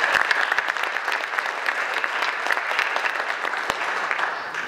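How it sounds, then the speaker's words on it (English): Audience applause at a mayoral candidate forum for a general election: steady, moderately loud clapping from a seated crowd that carries evenly throughout and tapers slightly near the end. "Please give a round of applause."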